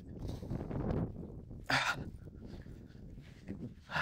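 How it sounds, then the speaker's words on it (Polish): A cheaply bought dog in hunting training gives short whimpers and a sharp bark or yelp up close, with faint voice-like sounds around it. "Dobry pies."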